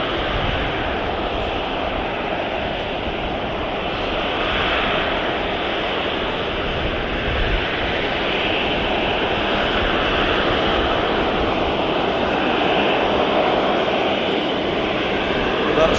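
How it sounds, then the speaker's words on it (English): Emirates Airbus A380 jet departing Manchester Airport, a steady broad roar of engines holding loud and constant throughout, with no talk over it. "Emirates Airbus A380 next out"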